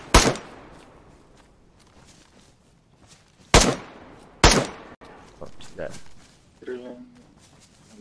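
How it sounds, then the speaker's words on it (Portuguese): Gunfire in DayZ on Xbox One: three sharp, loud shots spaced a few seconds apart, each with a trailing echo, followed by scattered softer thuds and a brief tonal sound. "Estão escutando nosso tiro?"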